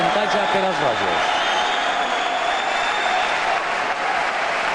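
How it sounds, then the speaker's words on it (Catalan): Spectators at the Pelayo trinquet applaud during a Valencian pelota escala i corda final as players change ends, a continuous crowd clapping wash with a commentator talking over it. "Els aplaudiments dels espectadors quan els jugadors estan canviant-se de part"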